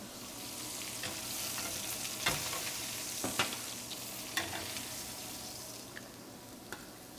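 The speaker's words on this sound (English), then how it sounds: "Can you hear that sizzle?" Steak and shrimp sizzling straight out of a Fagor combi oven, a steady close frying hiss with scattered sharp pops and crackles, no talking.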